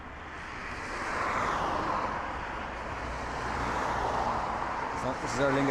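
An Aer Lingus airliner at Dublin Airport gives off a steady, broad jet roar that swells slightly and holds throughout, with people talking over it.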